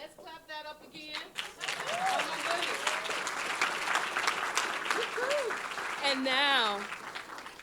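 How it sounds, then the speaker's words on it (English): A school district State of the District audience breaks into broad, sustained applause that swells and holds for several seconds, with voices speaking over the clapping at the start and near the end. "Let's clap that up again."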